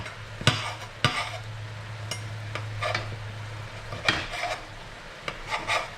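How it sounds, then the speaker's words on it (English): Scissors snip through firm wine cap mushroom stems close by, several crisp cuts at an irregular pace over a quiet kitchen background. "Just cutting the stem of the wine cap mushroom because the stems are firmer than the tops"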